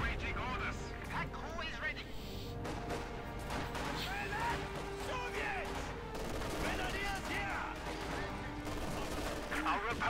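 Mortar rounds and gunfire crash and rattle through a Company of Heroes 2 1v1 battle with Panther tanks, steady bursts layered under continuous commentary from a caster.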